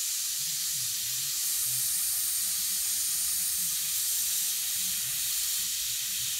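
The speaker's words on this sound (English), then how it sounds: "You stay square to the stencil when you're airbrushing so you don't blow paint underneath the stencil." Airbrush spraying paint over a stencil gives a steady, loud, close hiss of air that runs unbroken for about six seconds before cutting off abruptly at the end.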